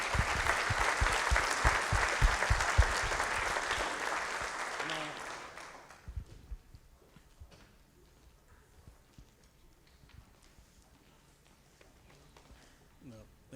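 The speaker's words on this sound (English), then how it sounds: "they just get another round of applause for being" An audience at a high school seniors awards ceremony gives a loud round of applause that swells and then fades out after about six seconds, leaving a quiet room with faint sounds.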